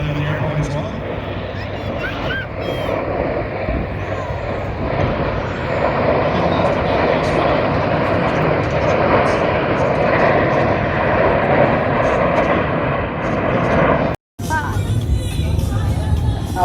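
Steady, loud drone of a fixed-wing airplane's engines in flight, continuous for most of the stretch with a brief dropout near the end, and faint voices murmuring underneath.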